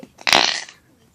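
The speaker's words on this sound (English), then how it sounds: "it makes a cool farting sound with putty" Pink slime squeezed by hand lets out a loud, wet, flatulent squelch lasting about half a second, close up and alone after a faint lead-in.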